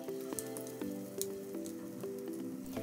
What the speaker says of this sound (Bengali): এক এক করে আমি এখন সবগুলো মাংস ভেজে নেব।